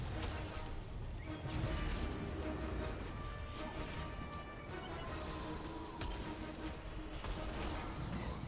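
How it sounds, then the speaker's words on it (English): An explosion rumbles through a video game boss fight in the Eternal Palace raid, a dense crashing roar of blasts and debris that fills the whole stretch at moderate loudness. "we got that explosion in the side of the room"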